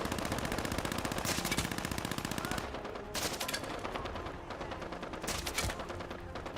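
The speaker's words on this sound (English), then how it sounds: "Light machine gun, I suppose." A light machine gun firing in the video game Fallout 76, heard as sustained, loud, rapid automatic fire with dense bursts running almost unbroken through the whole stretch.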